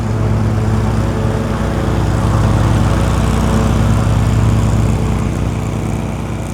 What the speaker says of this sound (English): there's going to be a little bit of mowing noise in the background